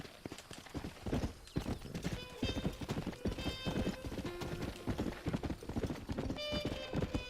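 Horse hooves gallop in Red Dead Redemption in a rapid, continuous rhythm, loud and close, with occasional chimes in the background.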